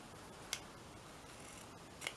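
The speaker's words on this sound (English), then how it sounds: "let me get a pair of scissors" A pair of scissors snips at a craft table, two short sharp metallic clicks about a second and a half apart, close and quiet against a faint background hiss.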